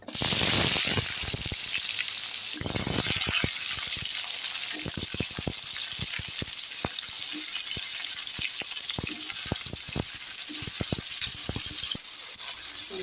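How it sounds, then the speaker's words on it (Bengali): Cut potato and eggplant pieces fry in hot oil, giving a loud, close, continuous hiss packed with rapid irregular crackles and spits from start to finish. "এখন আমি তেলের মধ্যে দিয়ে দেবো আলু বেগুনগুলো।"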